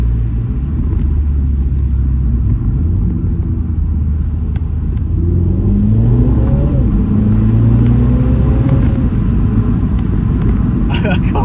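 A Mini Cooper John Cooper Works engine rumbles and revs up through rising pitches, heard close from inside the small car with a window down, steady low drone throughout while a person speaks over it.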